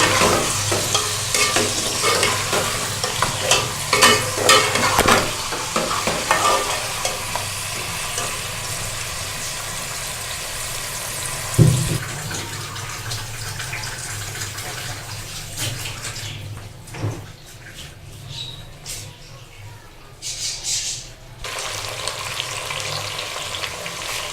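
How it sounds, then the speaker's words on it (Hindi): Food frying in a pan over medium heat while being stirred, a steady sizzle and scraping running throughout, with a loud clatter near the middle and the sizzle thinning out toward the end. "इसे हम दरमियानी आंच पे फ्राई होने देंगे।"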